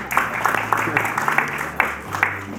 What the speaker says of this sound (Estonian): Hurraa, teeme aplausi kõigile Olgadele, kes siia täna tulnud on.